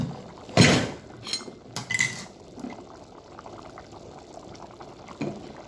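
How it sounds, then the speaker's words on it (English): Crayfish tipped into a pot of simmering corn porridge, a loud splashy pour at first, then a few softer spoon-and-pot clinks over a low, steady bubbling simmer. "Now it's time for us to put in our crayfish."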